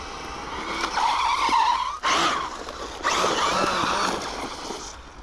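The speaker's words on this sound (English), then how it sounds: "It just doesn't get old when you hear the tyres squeal." A Maxx Slash RC car's small tyres squeal loudly across a hard surface in a few sharp skids, separated by brief gaps, close by with a whining motor underneath.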